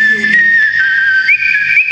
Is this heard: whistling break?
yes